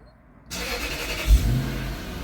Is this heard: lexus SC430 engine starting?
yes